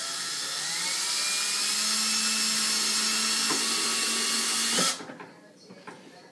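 A drill bores a hole near the edge of a khaki HDPE Stormtrooper helmet with a steady, high whine for about five seconds. It then stops abruptly and a few faint handling clicks follow.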